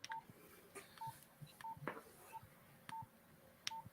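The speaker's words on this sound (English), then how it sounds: "I wonder if I still got the ringtones on here, actually." Short electronic beeps from an old 1990s mobile phone sound in a quick, irregular series, faint and close, with small clicks between them and no talking.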